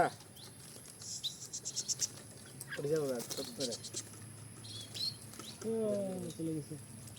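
Released parakeets and munias give brief high chirps and tweets as they fly off, scattered among excited voices of people talking nearby.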